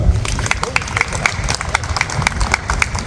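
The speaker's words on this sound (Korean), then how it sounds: "힘내라고 응원의 박수 부탁드립니다." Attendees at a Korean city-hall audit press conference clap in encouragement, a moderate patter of hands with distinct sharp claps over crowd murmur and low rumble.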